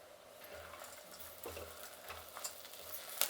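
Curry leaves go into rice and dal frying in a pan, with a soft steady sizzle and scraping stir strokes repeating at an even pace, quiet and close.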